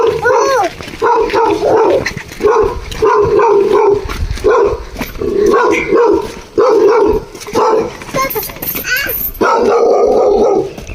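A dog near a chilli field barks loudly and repeatedly in close bursts, with some yips mixed in, while people talk over it.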